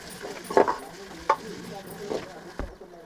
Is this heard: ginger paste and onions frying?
yes